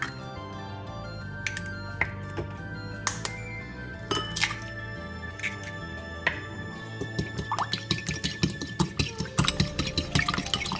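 Eggs beaten in a bowl for egg drop soup: scattered clinks and taps at first, then a quick run of rhythmic whisking strikes against the bowl, close and moderately loud.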